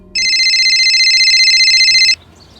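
A telephone rings with a steady electronic trilling tone, one loud unbroken burst lasting about two seconds before cutting off, close and clear over near silence in a dramatized crime scene.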